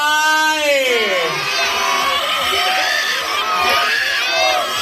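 A large audience at a beauty pageant cheers and screams loudly, with sustained high shouts and whoops rising and falling continuously across the whole stretch, no pause.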